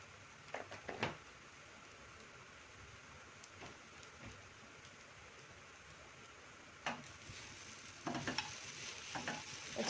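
Sabudana khichdi being stirred in a pan for a Navratri fasting dish, a soft continuous scraping and sizzle with a few louder spoon strokes near the start and toward the end.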